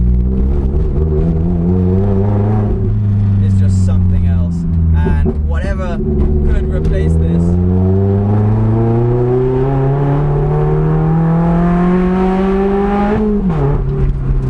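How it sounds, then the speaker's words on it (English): A naturally aspirated sports car engine with an aftermarket Larini exhaust revs and holds a rising, throaty tone, its pitch climbing and falling, while someone talks over it. "The noise from this Larini exhaust, naturally aspirated engine"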